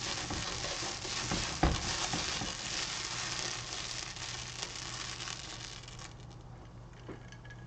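Chicken sizzles hard in a hot pan being deglazed and flambéed, a steady dense hiss and crackle close by that lasts throughout with a sharp pop partway and slowly eases toward the end.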